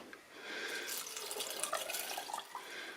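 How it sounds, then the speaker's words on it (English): Tap water runs steadily into a rock tumbler barrel, a continuous close splashing and gurgling fill with small drip-like accents and no speech. "I fill this with water."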